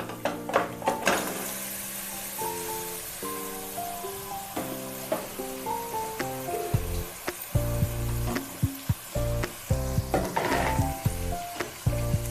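Chicken goes into sizzling fried onions, ginger and garlic for a Konaseema-style country chicken curry. A steady, close frying sizzle with scraping stirs plays under background music.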